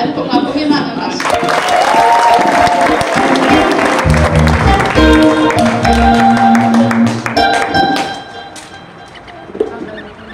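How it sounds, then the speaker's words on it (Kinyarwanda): A church congregation claps during a charismatic worship service, a dense steady applause with music and voices mixed in, loud for most of the stretch before thinning toward the end. "ariko mwakoma Imana amashyi"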